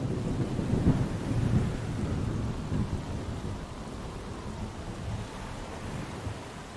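A thunderstorm effect for a theater audio drama of Treasure Island: steady, dense rain hiss with low rumbling thunder swelling early on and then fading into a continuous wash of rain.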